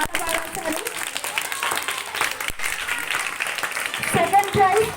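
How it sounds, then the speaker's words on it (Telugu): An audience at a VBS 2024 prize-giving event claps for the winners, a dense, continuous burst of applause at fairly close range with no pauses. "సో మీరు ఇంకా వాళ్ళకి గట్టిగా క్లాప్స్ కొట్టాలి"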